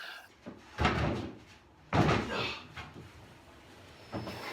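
Wooden sliding doors for a shop storage cabinet are set into their grooves, producing three distinct knocking thuds spaced a second or more apart, each trailing into a short scraping rustle, close and moderately loud.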